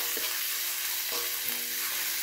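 Chicken feet fry in a pan with a steady, dense, close sizzle and a few faint knocks of stirring, and nobody speaks.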